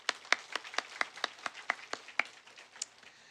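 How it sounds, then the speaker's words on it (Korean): A church congregation claps at a Sunday service to welcome a new family, producing faint, distinct, evenly spaced claps in a steady rhythm that trail off. "우리 박수하겠습니다"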